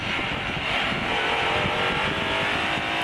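Race cars, a Ferrari and a Volvo with a V8, accelerating hard on the Assen circuit during a racing event, a loud steady engine roar throughout with no talk.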